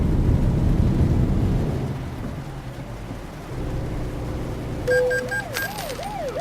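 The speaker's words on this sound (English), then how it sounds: "here it is in Arizona, and it's raining" Steady rain and storm wash around a truck in American Truck Simulator, driving through Arizona, with low rumbling broadband noise throughout and game alert tones near the end.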